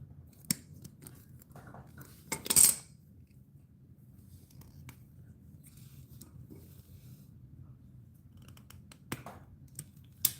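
Scissors snip through a brake light wire on a Honda Shadow Phantom bobber, a few sharp close cuts including one louder crunch, with scattered small handling noises in a quiet room.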